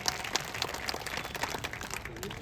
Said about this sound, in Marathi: टाळ्या करा जरा सर्वांनी